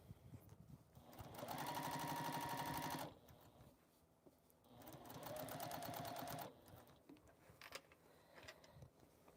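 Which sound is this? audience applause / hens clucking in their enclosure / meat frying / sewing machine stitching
sewing machine stitching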